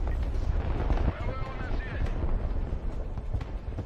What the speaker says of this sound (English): Another ballistic missile coming in, intercepting it.